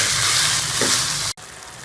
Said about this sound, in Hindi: इसको भी हम इसके अंदर पका लेंगे सब्जियों को भी चिकन के साथ